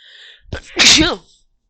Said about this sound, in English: The narrator sneezes.